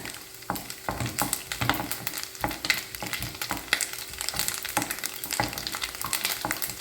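Grated coconut frying in hot ghee for a banana payasam, a steady close sizzle with crackles and scraping stirring strokes at irregular intervals.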